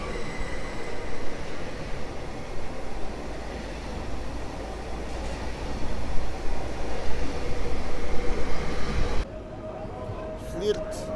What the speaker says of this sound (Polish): Flirt kolei mazowieckich relacji Warszawa, Gdańska, Góra Kalwaria.